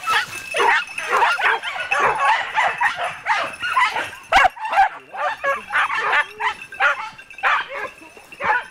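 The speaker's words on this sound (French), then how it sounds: "pour les aboiements de tes chiens, tu reconnais, hein?" Hunting dogs on a wild boar chase bark and yelp in rapid, overlapping bursts close by, an excited pack filling the scene with yips and whines while a voice or two breaks in briefly.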